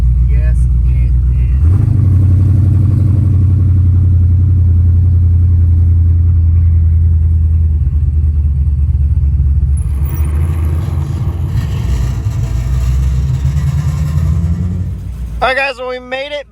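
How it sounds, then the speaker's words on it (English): A Dodge Dakota race truck engine idles with a deep, steady rumble close by for most of the clip, fading near the end as a brief voice cuts in. "it's nice to be in a running truck"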